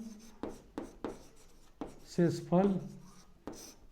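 Scratchy strokes of writing out a Class 9 polynomial maths solution come in short, separate bursts, close and clear, while a teacher talks in between.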